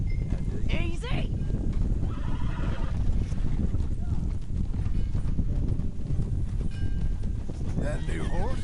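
A horse in Red Dead Redemption 2 whinnies with a sharp neigh, clopping hooves and ambient game sounds running steadily underneath, while a second whinny comes later.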